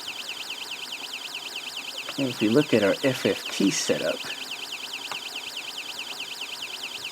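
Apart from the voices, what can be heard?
Snap Circuits alarm IC tone with changing frequency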